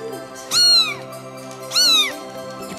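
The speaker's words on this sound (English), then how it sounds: "It's a kitty cat!" A kitten gives two loud, close meows about a second apart, each rising and falling, with quiet between them on a Christmas morning.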